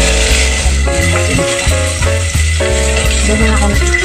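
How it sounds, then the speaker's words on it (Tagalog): Garlic sautés in a cooking pan for sinigang na biya, a Philippine goby soup, with a loud, steady close sizzle and crackle, under music with a repeating melody throughout. "igigisa muna natin yung bawang para sarap"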